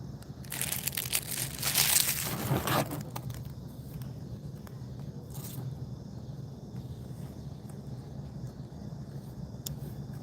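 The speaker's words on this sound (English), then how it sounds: "The hotly anticipated unboxing." Packaging crinkles and crushes loudly in bursts during the first few seconds as a delivered package is opened, then settles into quieter occasional rustles and faint scrapes over a low background hum.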